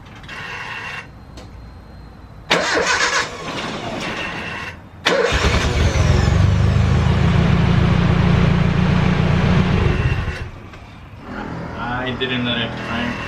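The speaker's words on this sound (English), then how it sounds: "I didn't let it crank quick enough. I let go of the key quick" A Nissan Hardbody pickup's starter cranks in a few short bursts, then the engine catches and roars into a loud, steady idle lasting several seconds before easing down, with a person speaking over parts of it.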